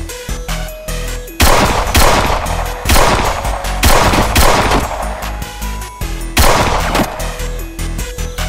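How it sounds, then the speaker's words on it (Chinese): Live-fire gunshots at a shooting range crack out one after another at roughly one-second intervals, loud and close, each with a booming report over a continuous background. "为什么会喜欢实弹射击？"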